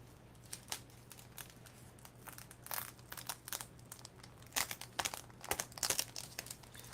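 A dried page coated with Mod Podge is crinkled and peeled against wax paper, giving faint, irregular crackling bursts that grow denser and louder toward the end, with no talking.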